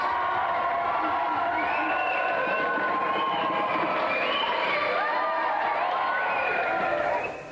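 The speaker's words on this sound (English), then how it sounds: "Another round of applause then for our three contestants" A lively game show studio audience cheers, whoops and claps steadily throughout, loud and continuous with excited voices mixed into the noise.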